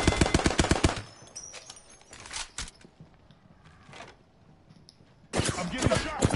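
Bursts of rapid machine-gun fire in a video game shootout, loud and close, a heavy volley at the start, scattered shots in the middle, then another intense burst near the end, with occasional speech.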